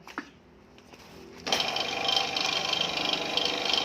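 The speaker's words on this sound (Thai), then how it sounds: "มาขัดเสื้อสูบมันต่อครับ" A two-stroke motorcycle engine cylinder being honed: after a quiet start, a steady, loud, high-pitched grinding whir kicks in abruptly and runs continuously to the end.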